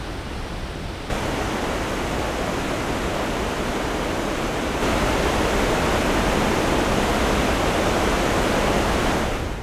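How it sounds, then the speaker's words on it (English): Bridal Falls at Niagara Falls roaring as a steady, dense broadband rush of falling water, loud and continuous with no voices, swelling slightly partway through. "Nearby is lovely Bridal Falls."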